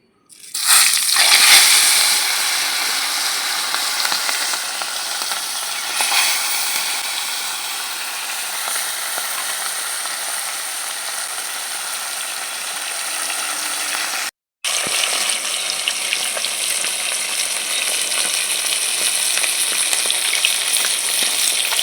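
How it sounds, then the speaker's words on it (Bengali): Small olive barb fish fry in hot oil with a pinch of salt in a heated kadai, giving a steady, loud, close sizzle that runs on without a break except for one brief cut near the end. "গরম করে নিয়েছি এখন মাছগুলো ভেজে নিচ্ছি"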